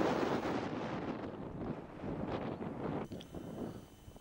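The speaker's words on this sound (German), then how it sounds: "Hier wird es schon windig." Strong wind sweeps across the Novembergrat ridge on the Schneeberg, rushing loudly and steadily against the microphone as a close, unbroken roar with slight gusting swells.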